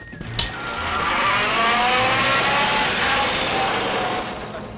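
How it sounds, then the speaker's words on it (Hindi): A car engine revs hard as the vehicle speeds past in an action-movie chase, a steady loud roar with rising and falling engine tones and a brief sharp sound near the start. "जमाल, गाड़ी रोको, रोको गाड़ी।"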